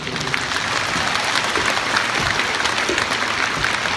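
A concert arena audience at a show breaks into dense, sustained applause, a thick steady roar of many hands clapping at even loudness throughout, with no talking on top.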